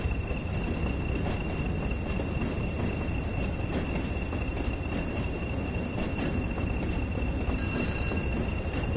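A shaft-driven locomotive runs on the Tees Valley line in a train simulator, producing a continuous loud rumble of wheels and motor with a faint steady whine and a brief tonal chime near the end.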